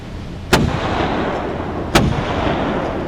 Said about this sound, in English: gunshots, that's never a good sign